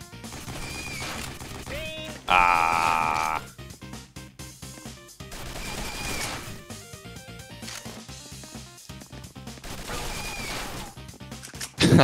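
Rapid bursts of gunfire and crashing explosions in the video game Mercenary Kings, broken by a loud electronic tone, with sound effects rattling throughout.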